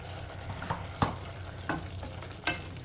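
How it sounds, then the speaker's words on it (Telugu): A spoon stirs mushroom curry with red chili powder and salt in a frying pan, giving a few distinct scraping strokes over a soft, steady sizzle. "బాగా కలిసేంత వరకు కలుపుకోవాలి"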